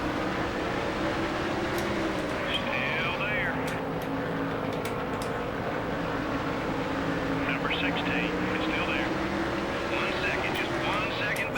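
Race cars roar around Bristol's night race in Nascar Thunder 2003, a dense, continuous engine drone with shifting pitch and a few tyre squeals over the steady pack noise.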